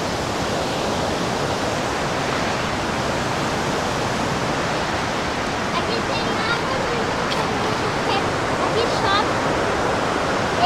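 Steady broadband rush of the Mutum waterfall in Amazonas, continuous and fairly loud throughout, with a few faint higher chirps or voices surfacing briefly in the background.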